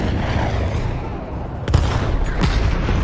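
An artillery gun being destroyed in Battlefield 1 sounds as a mid-level rumble of combat that breaks into two sharp, loud blasts, the second followed by a rolling boom.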